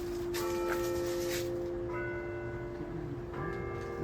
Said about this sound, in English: Church bells are ringing.